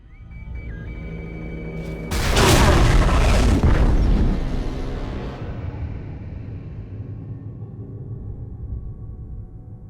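A tunnel detonation explosion from the game BioShock 2 erupts with a loud, deep boom around two seconds in, then a long rumbling roar that slowly fades over several seconds.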